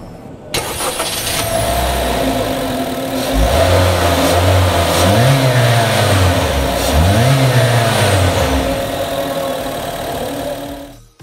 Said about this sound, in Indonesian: Dan pastinya kita penasaran dengan suara mesinnya.